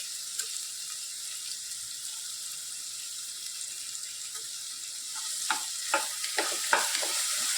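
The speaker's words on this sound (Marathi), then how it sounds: "अशा प्रकारे हलवून घ्यायचे आपण एकदम नरम करून घ्यायचं आहे कांदा हा असं" Onion fries quietly in a pan with a soft, steady sizzle, then a spoon stirs it in a run of scraping, clinking strokes that grow louder toward the end; no one speaks.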